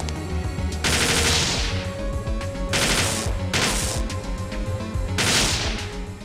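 Rifle fire in Parasite Eve 2 comes as loud, rapid automatic bursts, several separate volleys with brief pauses between them, close and dominant with no talk.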